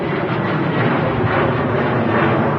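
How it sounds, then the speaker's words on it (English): KLM Boeing 737 jet departing Manchester for Amsterdam Schiphol, a loud, close, continuous engine roar that stays dense and steady throughout. "Boeing 737 heading back to Amsterdam Schiphol Airport."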